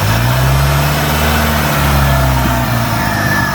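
A 1989 Shelby Daytona engine idles loudly and close up on fuel that is 14 years old, with a steady low rumble and a slight wobble in its pitch.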